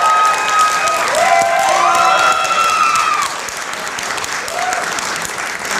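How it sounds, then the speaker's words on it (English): Audience applause and cheering greet a guest introduced at a Korean Wave forum, a dense steady wash of clapping with a few whoops on top, loud and sustained before easing slightly near the end. "So can you welcome her with a big round of applause?"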